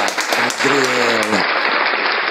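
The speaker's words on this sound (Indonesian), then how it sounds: "tepuk tangan lagi dong buat Fajril." Applause from an audience at an Indonesian mosque youth association gathering, steady clapping throughout with a brief voice speaking over it in the middle before the clapping carries on alone.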